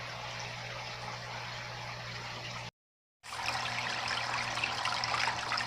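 An aquarium filter pump circulates tank water with a constant close rushing trickle and a low hum, interrupted by a brief half-second gap before resuming.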